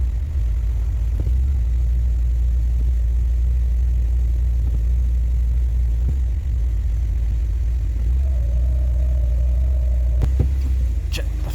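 A car engine runs steadily through each gear during a tune-up, a constant low rumble with a brief rising whine near the end and a faint click or two.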